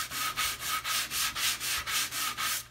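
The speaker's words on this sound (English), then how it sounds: "I usually sand with 80 grit to start, then I go to 120 grit" Sandpaper rubs a wooden cat boat half hull in quick, even back-and-forth strokes, about ten rasping passes close up with no talk.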